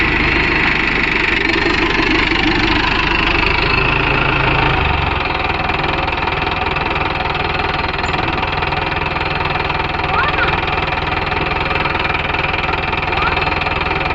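A Mahindra Arjun Novo 605 DI tractor engine runs steadily and loudly nearby in a field with a rotavator, giving a continuous rumbling drone that holds level for the whole stretch, with no talking.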